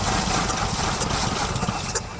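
The 1953 White WC truck engine, cranking on its starter and trying to fire after 30 years of sitting, gives a loud, rough, steady churning rumble throughout, close up.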